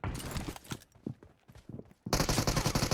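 Gunfire in the PUBG Mobile video game rattles in rapid automatic bursts, a dense volley opening and another loud burst closing, with scattered softer shots between.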